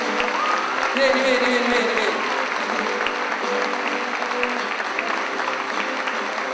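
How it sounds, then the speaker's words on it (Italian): Audience applause rings out for a sanctuary church choir at a Christmas concert, with dense, steady clapping from a crowd while a voice calls out repeatedly over it. "Un forte applauso."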